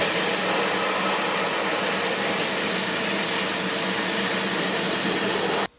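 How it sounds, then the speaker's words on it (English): A blasting cabinet roars with a steady, loud, broadband hiss of abrasive blasting as an inner fender from a 1979 Chevy Camaro Z28 is stripped, running unbroken until it cuts off abruptly at the end. "I'm blasting it right now in the blasting cabinet"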